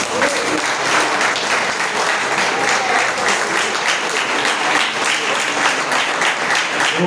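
A church congregation claps in praise to God after a sermon. The applause is loud, continuous and dense for about seven seconds, with faint voices mixed in.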